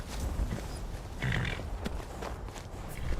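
A war horse in the video game Skyrim clops along with steady hoof beats and gives a snort or whinny, heard fairly close and alone for a few seconds.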